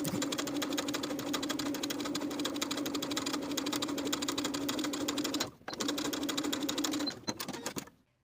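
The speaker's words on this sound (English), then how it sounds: "Understitch the pocket, sewing the pocket to its seam allowance underneath with about 1/8 inch seam allowance." A sewing machine runs steadily while understitching a pant pocket to its seam allowance about 1/8 inch from the edge, a continuous hum with a brief pause near the end before a short final burst.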